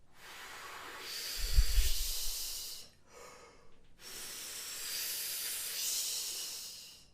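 Air blown through a brass instrument without a buzzed tone: two long, breathy hisses separated by a short pause, close and steady.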